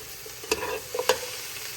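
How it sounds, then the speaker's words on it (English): Onions, carrots and garlic sauteing in avocado oil give a steady low sizzle, broken by a few quick scraping stirs of a utensil against the pan, and no one talks. "I'm just gonna saute that."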